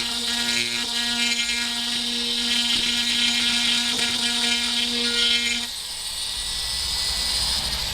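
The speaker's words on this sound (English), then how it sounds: "We're using a Fordham flexible shaft tool, or you could use a Dremel" A Foredom flexible shaft rotary tool grinding a seat into jewelry metal, a steady high whine with strong harmonic tones running continuously for about five and a half seconds, then cutting out to a softer hiss.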